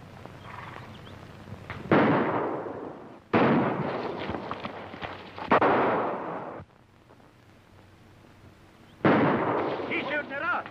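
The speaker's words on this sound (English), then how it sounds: "He's shooting at us." Gunfire in a western film shootout, shots fired at people: several loud sharp bursts spaced a couple of seconds apart, with echoing tails and a quieter gap between volleys.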